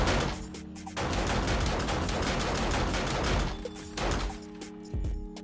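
Automatic turret in the game 7 Days to Die firing a steady, loud rapid burst of gunfire that runs almost continuously, with a couple of brief pauses and sharp impacts near the end.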